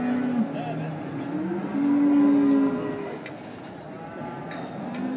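Cattle at the Çorum livestock market give a few drawn-out moos, one long, strong low call standing out. They sound over a busy background of crowd murmur and distant voices.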